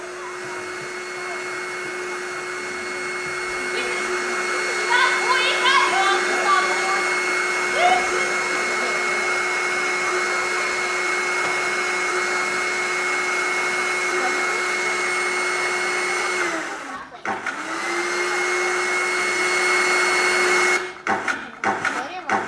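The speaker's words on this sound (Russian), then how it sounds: "пылесос возьми, быстренько квартиру пропылесось" A vacuum cleaner runs in a Soviet-style cartoon apartment as a steady, whining drone under brief cartoon speech. The whine stops abruptly, winds back up and keeps going, then cuts out in a few sharp breaks near the end.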